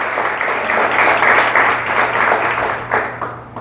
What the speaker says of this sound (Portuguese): Vamos aplaudir o Senhor, que é digno de toda honra, toda glória e todo louvor.